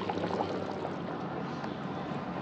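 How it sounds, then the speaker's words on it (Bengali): Thin chicken curry broth bubbles at a steady boil in a pan, a dense, continuous burble and hiss heard close up and alone, with no voices. "ঝোলটা ফুটছে,"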